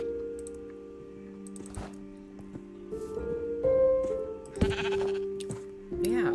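Sheep in a video game bleat several times, wavering nasal calls close by over a quiet tonal background, with light clicking sounds scattered between them.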